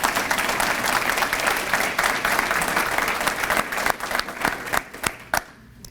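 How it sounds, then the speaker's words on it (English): Audience applause for an award winner at a school awards ceremony, dense steady clapping from a large crowd that thins out and fades to scattered claps near the end. "A big round of applause to Shawn Patterson."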